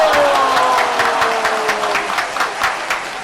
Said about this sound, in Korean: 주인공 입장 박수.